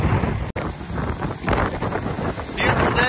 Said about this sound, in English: Beautiful day, but awfully windy.